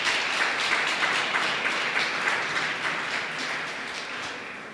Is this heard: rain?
no